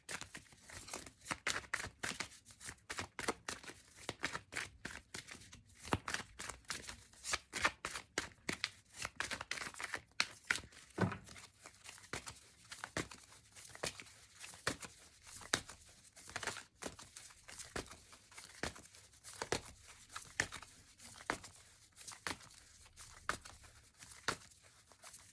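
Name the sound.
cutting and shuffling a deck of cards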